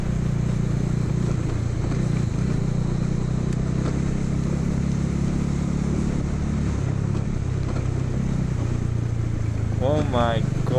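A Bajaj Dominar 400 motorcycle is ridden over potholed roads, its engine droning steadily and loudly close by throughout, with wind rumble and a rider talking over it.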